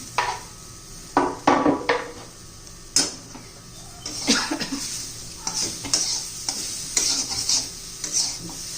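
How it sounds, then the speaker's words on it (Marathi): Gram flour roasts with onions in oil while being stirred in a pan for a paratha filling. Irregular scraping strokes of a spoon against the pan come over a low sizzle, several distinct bursts, close and moderately loud, with no talking. "आपलं बेसन चांगलं शिजलं पाहिजे त्या कांद्याबरोबर तेलात चांगलं भाजून निघते"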